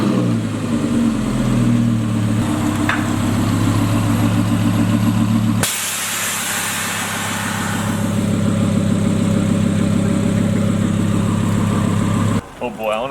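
An Audi R8 engine runs steadily as the car is driven down off wooden planks, a loud, sustained drone that shifts character partway through as the car moves, ending with a sharp sudden cut.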